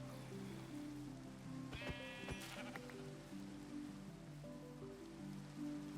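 A sheep bleating in the Minecraft video game, a couple of short nasal bleats near the middle over a soft rain-like patter, faint and distant overall.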